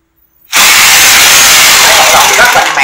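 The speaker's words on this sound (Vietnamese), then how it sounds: "Đây, mình sẽ khoan tiếp một lỗ nữa kế bên thôi" A Bosch rotary hammer drill bores a hole into concrete, starting abruptly after brief quiet and then running loud and steady, close up and hammering continuously.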